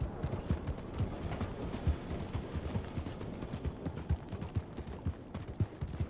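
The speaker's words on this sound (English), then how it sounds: "I'm riding my horse up a hill." Horse hooves clip-clopping at a steady trot as a rider climbs a hill in Red Dead Redemption 2, rhythmic close thuds continuing throughout with game ambience beneath.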